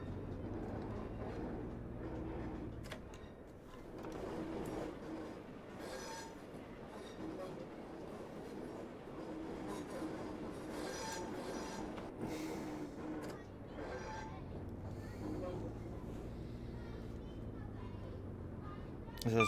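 A Class 143 diesel railbus running on rails between Barnstaple and Exeter, a continuous rumbling engine and wheel noise from inside the carriage with faint rail clatter and someone talking over it.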